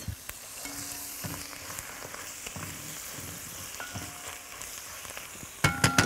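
Beef broth is poured onto browning meat in a pot for spinach and chickpea soup, giving a soft, continuous sizzle with light stirring scrapes and a louder clatter at the end.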